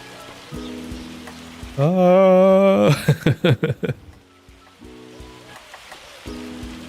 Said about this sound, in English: I think the hail will actually damage vehicles as well.